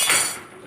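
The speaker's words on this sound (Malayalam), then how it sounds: "മൂടി വെക്കാം." A lid is set down on a cooking pot with a single short metallic clink close by, and the ring fades quickly.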